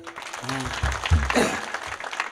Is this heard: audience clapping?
yes